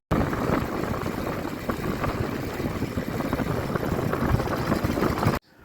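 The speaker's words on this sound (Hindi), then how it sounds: "तो हम अभी मोटरसाइकिल से ही अपने पहाड़ों की जो सैर है वो कर रहे हैं" A motorcycle rides a mountain road in the Kumaon hills near Bhimtal, its engine a loud, continuous rumble mixed with wind buffeting, lasting until an abrupt cut near the end.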